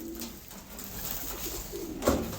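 Homing pigeons in a loft give soft, low coos that murmur continuously, with one slightly louder coo near the end; no talking.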